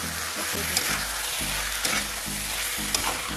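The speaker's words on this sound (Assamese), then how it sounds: "পাস্তাখিনি আমি 5 মিনিটমান ধুনীয়াকৈ ভাজিম।" Boiled pasta sizzles steadily in a frying pan while being stirred, with soft scraping strokes recurring every second or so under the continuous frying hiss, close and moderately loud with no speech.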